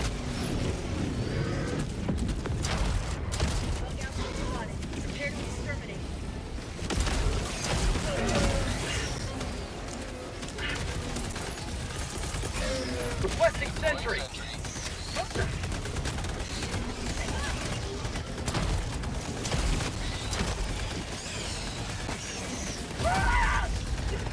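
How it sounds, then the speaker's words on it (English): Orbital strike explosions and combat in Helldivers, a dense, continuous barrage of booms, gunfire and mechanical clatter, with occasional voices over it. "Requesting orbital strike."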